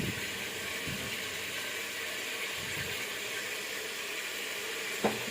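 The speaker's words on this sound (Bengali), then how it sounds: "আলুটা ওদিকে তারে ভাজা ভাজা হোক, এদিকে আমি চিংড়ি মাছের জন্য কড়াইতে তেল দিয়ে দিচ্ছি" Potatoes frying in oil in a wok with chopped tomato, a faint steady sizzle that runs throughout, with a few soft stirring bumps and one sharp knock near the end, and no talking.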